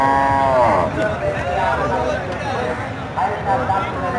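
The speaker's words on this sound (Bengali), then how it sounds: "দেশি গরু তাই না?" Cows mooing on a farm, several long drawn-out lowing calls close by, with people talking throughout.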